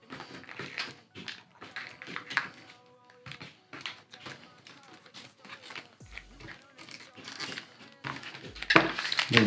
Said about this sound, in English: And then you can actually pull that tape away as well.